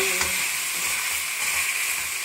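Pieces of veal browning in a hot pan make a steady, close sizzle and crackle for a couple of seconds, with no talking.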